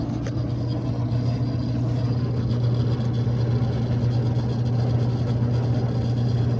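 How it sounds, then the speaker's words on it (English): A gas home heating furnace's blower motor spins up and runs, a steady low hum with a constant drone, close and unbroken throughout. "the first thing it needs to do, it needs to turn on this motor. Let it spin."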